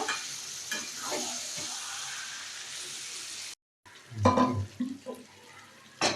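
Buckwheat khichuri cooks in a pan with a steady sizzle, then after a brief silence a spoon stirs and scrapes it in close, irregular knocks and shuffles.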